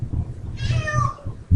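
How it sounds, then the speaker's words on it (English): A cat meows loudly and drawn-out, a single rising and falling yowl close by, over a low background hum. "Don't pay attention to that loud cat."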